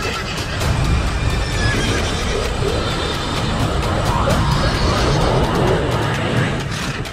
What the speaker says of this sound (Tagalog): Kitang-kita na hirap ang napakalaking kabayo na hatakin ang paring engkanto.